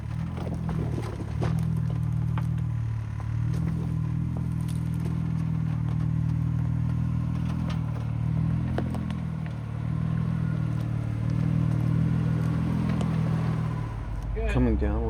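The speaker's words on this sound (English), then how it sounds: "The first Jeep going over is Anthony, and then the second Jeep is my 392" Two off-road Jeeps, the second a 392, crawl one after another over a big rock on a mountain lake trail in Northern California, their engines a steady low rumble with surging revs and occasional clatter, with voices talking throughout.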